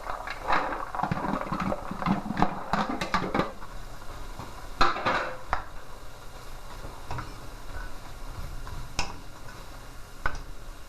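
Vegetables for lumpia filling tipped into a pan, giving scattered clattering, tapping and scraping against the cookware, loudest in two clusters and then sparser, close and moderately loud with no talking.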